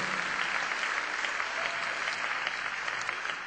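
An audience at the 2015 Presidential Outreach Awards claps for itself, a continuous wash of crowd applause at moderate volume throughout.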